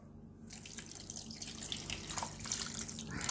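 Campbell's vegetable stock, about 600 ml, pours steadily into a cooking pot, a continuous liquid splash and trickle lasting a few seconds with no talking over it.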